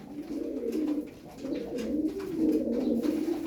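Young Turkish tumbler pigeons cooing close by in repeated low throaty phrases, three swelling coos in a row over a quiet background.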